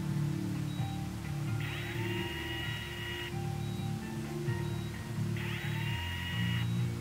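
A whining drill from a surgery video game, high pitched and buzzing in two long bursts over a low droning background of game music, with no talking.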